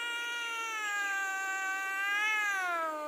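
A pet cat lets out one long, drawn-out meow close by, wavering in pitch and rising near the end, with nothing else audible around it.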